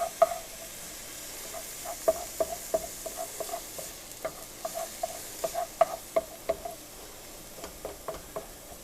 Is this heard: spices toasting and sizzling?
yes